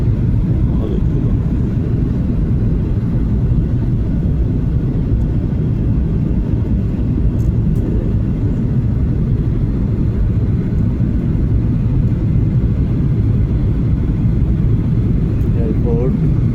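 Aircraft engine roar from inside a plane landing and taxiing at Suvarnabhumi airport, a steady loud low rumble that holds throughout with faint voices in the cabin.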